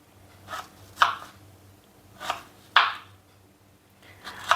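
A knife slices raw mango into long pieces for a traditional oil mango pickle. Five distinct cutting strokes land against a board at an uneven pace. Each is a close, crisp chop with a short scraping tail, separated by quiet pauses.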